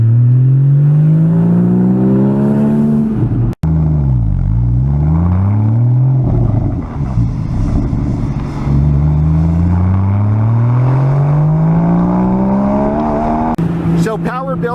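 A Porsche Boxster S engine revs hard through the gears, pitch climbing repeatedly with brief drops at each shift, loud and close from inside the car, a voice speaking over it.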